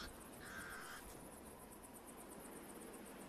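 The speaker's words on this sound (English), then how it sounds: "The pied crows sound the alarm again." Pied crows call an alarm in the African wild, one harsh call up close followed by fainter repeated cries over a steady background of insects.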